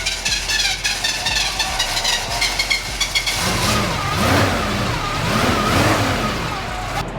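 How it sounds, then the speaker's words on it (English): A Chevrolet Dually Suburban engine, fed from a temporary tank and small electric fuel pump, idles loudly up close and then rises and falls through several revs in a steady rumbling cycle. "so Jason just got it running off a tank and a little electric pump"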